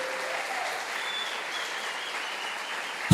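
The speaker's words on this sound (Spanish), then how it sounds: "Dele ese aplauso al Señor bien fuerte." A church congregation applauding during a Sunday service, a steady wash of clapping at moderate level throughout, ending with a sudden loud knock.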